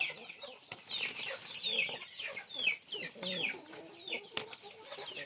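Chickens cluck and chatter busily among the vegetable beds of an organic garden with chicory and cherry tomatoes, a steady run of close, overlapping calls with no talk.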